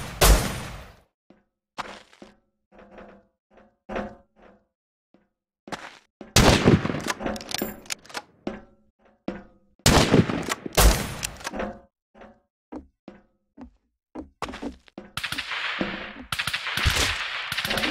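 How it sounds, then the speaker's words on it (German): Gunfire in the survival game Rust during a night base attack: scattered single shots and short rapid bursts, some loud and close, others fainter, with sharp cracks separated by brief silences. "Nee, auf uns schießen die."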